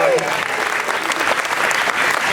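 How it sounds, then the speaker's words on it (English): An audience at a Halloween Horror Nights Q&A with John Landis and Greg Nicotero gives the show director a round of applause: dense, loud, sustained clapping from many hands that fills the whole stretch. "Let's give him a round of applause."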